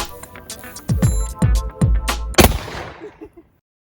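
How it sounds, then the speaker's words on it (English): Several shotgun blasts from trap shooting ring out in quick succession, loud sharp bangs with short echoing tails, before fading to quiet. "Trap shooting is always a good time."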